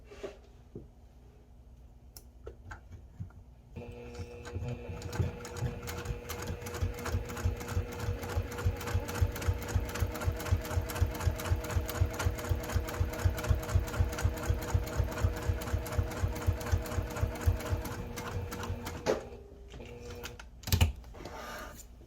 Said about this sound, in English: We're going to do a top stitch along the bottom of this to close up that opening.